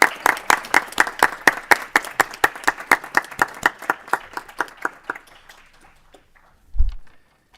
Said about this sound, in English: Let's give a nice round of applause to Mr. Wang.